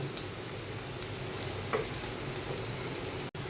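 Onions sizzle and fry steadily in a hot pan for a Bengali hilsa fish and taro curry, with a constant close crackle and no talking.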